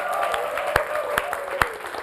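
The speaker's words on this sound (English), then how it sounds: "Clap for yourselves" Steady applause from a live studio audience at KTTC with a few sharp, louder claps standing out near the front, while a voice murmurs faintly beneath.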